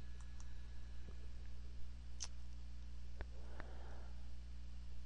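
A few sharp, quiet computer mouse clicks scattered over a steady hum of background noise, close to the microphone with no talking.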